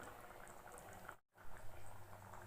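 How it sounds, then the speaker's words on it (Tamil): Okra tamarind curry (vendakkai kulambu) simmering in a pot, a faint, steady bubbling hiss running continuously apart from a brief dropout midway. "குழம்பு நல்லா கொதிச்சிருச்சு"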